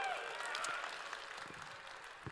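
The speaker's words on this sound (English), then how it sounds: "Give them a round of applause." Audience applause at EVE Fanfest, the EVE Online fan convention, a steady wash of many hands clapping through a large hall that holds at a fairly even level and tapers slightly toward the end.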